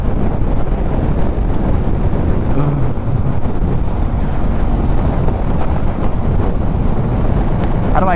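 Heavy wind roar buffets the microphone while riding a 2022 second-generation Yamaha XSR900 motorcycle at speed, loud and constant throughout with a muffled rumble beneath.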